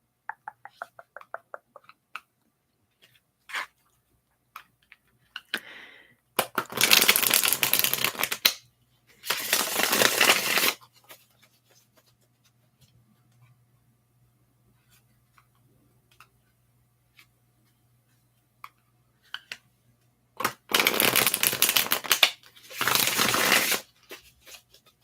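Playing cards riffle-shuffled close up in a quiet room: a few bursts of crisp, rapid fluttering, two long and one pair later, separated by near silence and soft taps.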